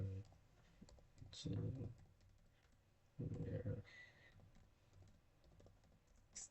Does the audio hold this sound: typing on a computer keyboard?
yes